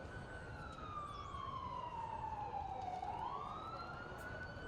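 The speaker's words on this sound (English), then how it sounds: "as you hear the ambulance sirens buzzing by here" Emergency sirens wail at a college football game, a faint, distant rising and falling tone that dips, then climbs again as the vehicle passes by.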